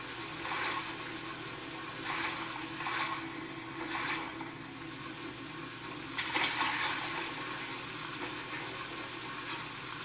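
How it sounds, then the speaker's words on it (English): Water in the Amnesia video game world sloshes and splashes in faint repeated bursts over a low ambient hum, quiet and somewhat distant. "Whoa! Water!"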